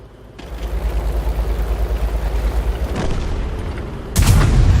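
An artillery round lands in the World of Tanks video game, a heavy boom over a continuous low tank-engine rumble, with a sharper impact near the end.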